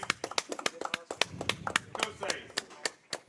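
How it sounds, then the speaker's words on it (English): A high school football crowd gives a round of applause for the coach and his wife: sharp, separate hand claps ring out fairly close, uneven and sparse rather than a dense roar. "one more round of applause for Coach Chris Kosay and his wife Michelle"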